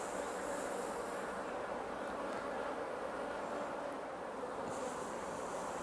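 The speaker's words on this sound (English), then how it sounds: "And bees are fairly calm today." A steady, dense hum of many honeybees buzzing around an open hive, continuous and even in loudness, with no voices over it.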